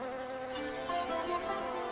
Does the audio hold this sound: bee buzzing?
yes